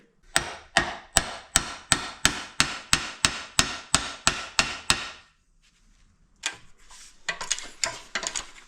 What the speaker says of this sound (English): And we're going to install the bearing.